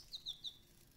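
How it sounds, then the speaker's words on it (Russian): Three quick, faint bird chirps in a row come from a game bird in Ad Infinitum, a First World War horror video game, then fade to quiet background hiss. "Давайте выключим эту птицу."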